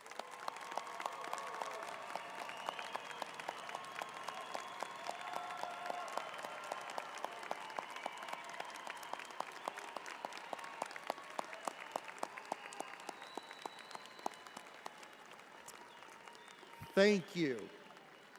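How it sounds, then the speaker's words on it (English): Large crowd applause rolls steadily through an arena at a university winter commencement as graduates' families and friends stand, many overlapping claps sustained for about fifteen seconds, ending with a brief spoken thanks. "applause."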